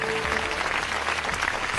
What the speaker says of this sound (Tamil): நல்ல கைத்தட்டல்.